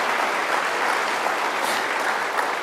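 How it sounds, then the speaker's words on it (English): A large audience at a university State of Our University address claps in sustained, even applause, a loud continuous wash of hands throughout. "Applaud for that, absolutely."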